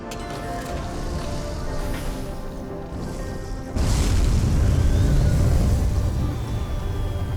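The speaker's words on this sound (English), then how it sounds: "Launch rocket" Rocket launch in Surviving Mars: a steady low engine rumble that suddenly surges into a louder, heavier roar midway and holds to the end.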